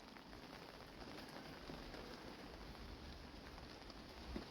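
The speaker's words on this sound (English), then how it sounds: "hasn't stopped raining for at least a day and a half now, going on to 2 days" Steady rain falls on an allotment garden, a faint even hiss of patter with no break, and a slight tap near the end.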